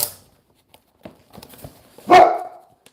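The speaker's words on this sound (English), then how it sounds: "He's just barking at something." A dog barks once in a short, loud burst close by, after a few faint knocks and taps in an otherwise quiet room.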